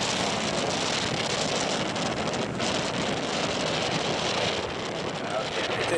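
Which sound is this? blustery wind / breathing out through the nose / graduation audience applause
blustery wind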